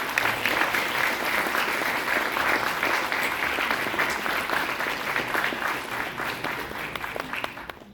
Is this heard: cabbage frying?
no